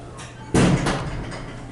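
A ThyssenKrupp hydraulic elevator door slides shut with a loud thud about halfway through, then a quieter rumble trails off in a steady background hum.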